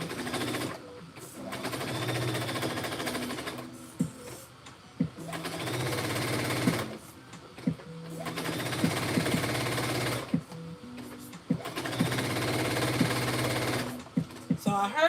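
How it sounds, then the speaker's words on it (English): A sewing machine stitches pockets together in repeated runs of several seconds each, with short quiet gaps between them, the close rapid needle clatter steady within each run. "Sewing the pockets together."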